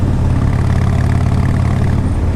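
A 2004 Harley-Davidson Road King Custom V-twin rumbling steadily on a test ride, a loud, continuous low throb that stays close and even throughout, with no voices.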